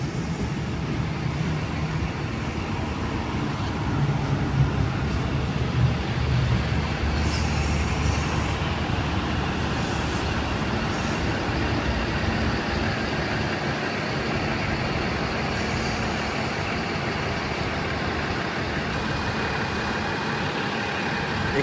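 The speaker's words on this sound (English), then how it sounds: "Explorer's now departing platform 1." The Explorer passenger train departs the platform at Broadmeadow station in Newcastle with a steady, heavy rumble of rolling wheels and carriages, faint high squeals above it, loud and sustained with no talk.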